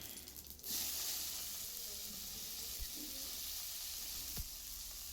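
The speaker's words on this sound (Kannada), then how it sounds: "ಅದಕ್ಕೆ ಒಗ್ಗರಣೆ ಇವಾಗ ಮಾಡ್ಕೊಂಬಿಡ್ತೀನಿ" Mustard seeds and curry leaves crackle and sizzle in hot oil, tempering for a chickpea masala, a steady close frying hiss with a few sharp pops and light stirring, heard alone.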